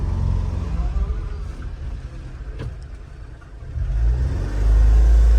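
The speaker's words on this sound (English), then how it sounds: "Back it up a little bit and then pull forward and move over this way a little" A Honda Acty kei mini truck idles and creeps in reverse, its small engine giving a steady low rumble that swells louder toward the end as it pulls away; no talking.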